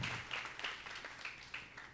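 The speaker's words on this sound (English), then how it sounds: "Please give them a round of applause" Scattered applause from a small gathering at a Krishna Janmashtami celebration, a few distinct, uneven claps standing out over a soft background of hands, fairly quiet and brief.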